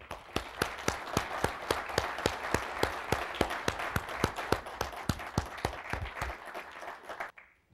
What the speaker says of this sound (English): give a big round of applause for all the people in SOMS and the great job that Leica has done